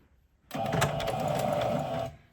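A sewing machine runs in one steady burst for about a second and a half, stitching a straight seam on a raglan T-shirt, close and clear with no talking.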